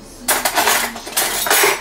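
A metal spoon clinks and clatters against a soup pot holding porcini mushroom soup, a quick run of bright, loud metallic taps and scrapes close by with no talking.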